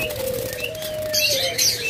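Pet lovebirds, budgerigars and cockatiels in an aviary, a steady chorus of bright chirps and twitters with a soft whistled tone and brief wing flutters close by.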